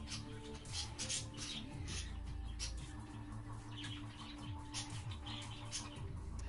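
Birds chirp softly in the game Alone With You, small scattered tweets over a faint, steady ambient backdrop with no one talking.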